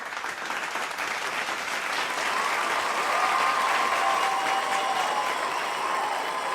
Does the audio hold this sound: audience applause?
yes